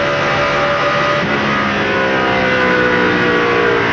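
A stock car engine in the 2002 Pennsylvania 500 race roars loudly and steadily throughout, its pitch dipping and shifting partway as the driver works through the gears approaching a turn, with no talk over it.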